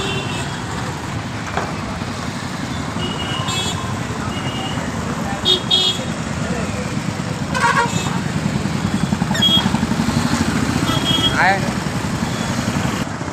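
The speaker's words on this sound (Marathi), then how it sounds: "स्मार्ट सिटीमुळे पूर्ण ट्रॅफिक जाम झालेली आहे हे आहे शिवनेरी चौक" A traffic jam at Shivneri Chowk brings a steady rumble of idling motorcycles, cars and buses, with repeated horn toots cutting through at intervals and a voice talking over the street noise.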